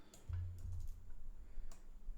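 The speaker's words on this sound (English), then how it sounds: "And I don't like typing that much." Keys on a computer keyboard are struck while Python code is typed, with a few sparse, light clicks spread over a low steady hum in a quiet room.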